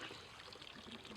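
Water poured into a cooking pot while making upma and egg curry outdoors in a natural setting, a soft steady trickle close by with no one talking.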